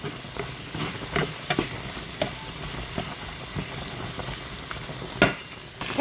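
Carrot and green beans sauté in a pan with a continuous frying crackle, punctuated by irregular clicks and scrapes of a spoon stirring the vegetables.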